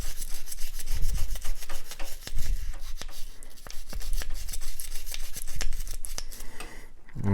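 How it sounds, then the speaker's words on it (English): A cleaning brush scrubbing inside a Glock 43X pistol, close and fairly quiet, with repeated rapid bristle strokes in uneven bursts and a short clack at the end. "And then I'm going to take and scrub down in here."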